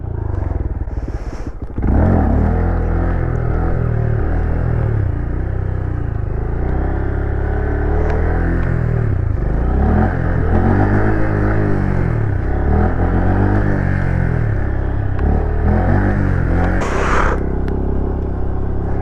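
A motorcycle engine runs steadily and loud up close, with changes in pitch as the rider climbs a hill after swapping out the stock handlebars. A brief clatter comes at the start, and a faint voice sits under the engine.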